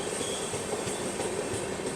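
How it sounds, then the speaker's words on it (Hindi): Inside a Bandra–Bhuj AC Superfast train near Viramgam Junction, a steady, dense rolling rumble fills the carriage as the train eases off, with faint rhythmic wheel clicks and a high hiss. "इसलिए थोड़ा सा स्लो डाउन हो गई है अपनी ट्रेन।"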